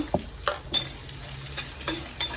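Small shallots stirred and sizzling in a hot pan of rice for a dried anchovy thoran, with a low frying hiss beneath several distinct scraping stirs spaced through the short stretch.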